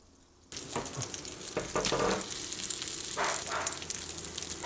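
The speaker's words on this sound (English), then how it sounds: "We've got our olive oil heating up in the pan. We're gonna throw some butter in there as well." Fish dropping into hot olive oil and butter in a pan: after a brief quiet moment a loud, close, continuous sizzle bursts up and keeps crackling steadily without voices.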